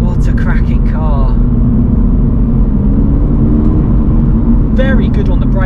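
A Toyota GR86 drives on a UK road with a steady, loud engine drone and road rumble throughout. Someone talks over it at the start and near the end.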